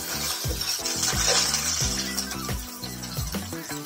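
Onions with ginger garlic paste stirred in a pan: repeated clinks and scrapes of a spoon against the metal over a steady sizzle, close and rhythmic, with no talking.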